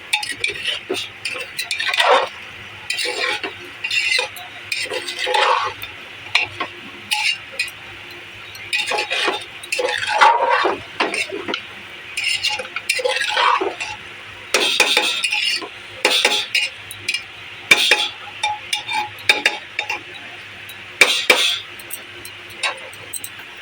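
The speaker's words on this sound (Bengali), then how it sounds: "ভালো করে নেড়ে দেবো" Ingredients for Bangladeshi-style kacchi biryani stirred in a pot with a metal utensil: repeated clinking and scraping strokes in an irregular rhythm, close and fairly loud, with no talk.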